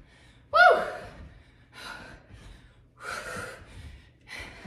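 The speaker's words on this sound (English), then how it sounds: "Not talking much because I'm breathing really heavy during this one." Heavy, gasping breaths during a 30-minute cardio rebounding workout, four loud exhalations with a sharp gasp at the start, spaced about a second apart with quiet pauses between.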